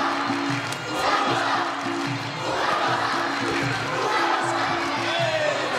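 A crowd of fans cheers and shouts steadily through a Muay Thai bout at the Russian Thai boxing championship, with a loud continuous roar, rhythmic chanting pulses and occasional louder swells throughout.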